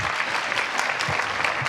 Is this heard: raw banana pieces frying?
no